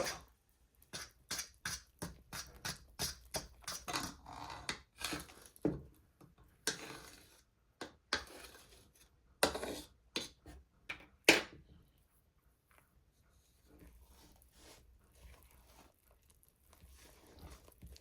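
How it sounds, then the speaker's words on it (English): 7up pound cake batter made from a boxed cake mix is stirred by hand in a bowl, giving a quick run of rhythmic clicking and tapping strokes, then slower, sparser taps that fade to quiet scraping. "Now, I'm just gonna mix."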